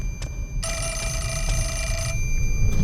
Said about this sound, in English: There's also a phone ringing.